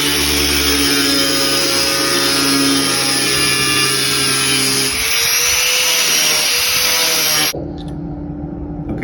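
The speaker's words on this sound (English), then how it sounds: "the quickest way to get this fin box out is to use an angle grinder like this" An angle grinder cuts out a broken Stavron fin box from a surfboard, a loud, steady high-pitched whine with the pitch dipping under load midway, then cutting off and spinning down near the end.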